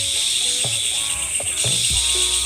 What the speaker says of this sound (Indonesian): Jenis jangkrik